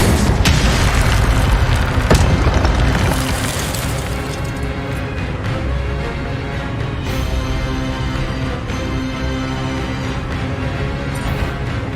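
A spell cast in the Hogwarts Legacy video game lands with a loud, booming burst of magic near the start, followed by a sustained rumbling roar of combat effects.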